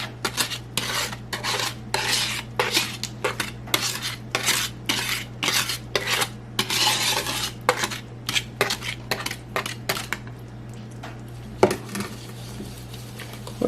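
Red velvet cake batter made with buttermilk being mixed in a bowl, a utensil scraping and clinking rapidly against the bowl in steady repeated strokes, close and fairly loud, slowing near the end.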